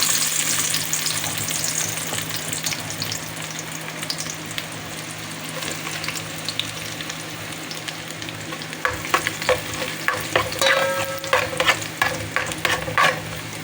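Garlic fries in heated oil in a kaldero, a steady close sizzle that grows busier toward the end with crackling pops and scraping clatter from stirring.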